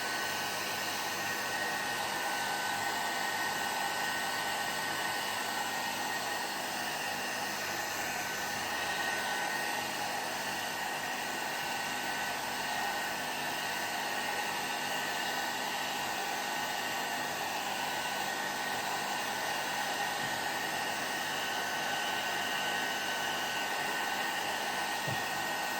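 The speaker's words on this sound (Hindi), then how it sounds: "अब मैं बाल को ड्रायर कर रही थी" Handheld hair dryer blowing on hair after a bath at home, a steady, loud, unbroken whoosh of air lasting the whole stretch with no voices.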